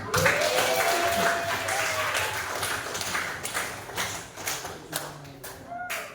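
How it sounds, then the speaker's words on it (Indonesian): An Indonesian primary school class claps hands together in appreciation at the end of a lesson, a loose, uneven burst of clapping with some thuds and a voice or two underneath. "Untuk kerja keras kalian dan kerjasamanya kita apresiasi dengan tepuk tangan."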